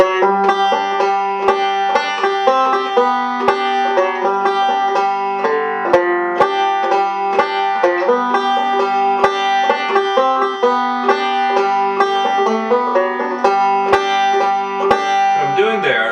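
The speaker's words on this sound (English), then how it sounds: "a really standard kind of banjo device here, where I'm sliding on the fourth string" A banjo plays a bright, rolling tune, the B section of Old Joe Clark, with quick picked notes and a slide on the low fourth string, steady and close, no talking.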